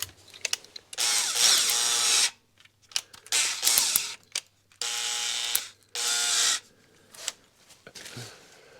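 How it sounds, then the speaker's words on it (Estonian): A power drill boring small holes for suction cups on a van, running in several bursts of a few seconds each with short pauses, loud and close, with clicks and handling noise between bursts. "puurime veits väiksed augud"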